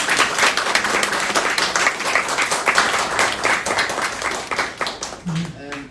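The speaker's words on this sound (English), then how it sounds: "Let's give Felix another round of applause." An audience applauds a speaker named Felix at an evening salon talk, with dense, sustained clapping from a roomful of people that fades out at the end.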